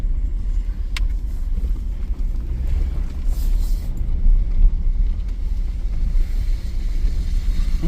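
A car drives along a road near the South Rim of the Grand Canyon, a steady low rumble of engine and tyres with wind buffeting the microphone, continuous and fairly loud throughout.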